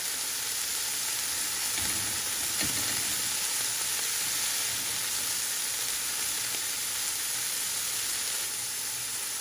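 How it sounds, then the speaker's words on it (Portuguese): Steady sizzle of chicken frying in a pan fills the whole stretch, a constant hiss of oil crackling, moderately quiet with no talking. "Retirar da panela e fritar o restante"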